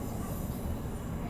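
A four-car Transperth suburban train rolls past a station platform, a steady, dense low rumble of wheels and carriages close by with no break in the noise.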